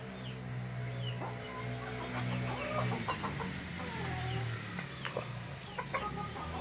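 Several bantam Cochin hens cluck and murmur close by, with short calls scattered over a steady low hum of farmyard background.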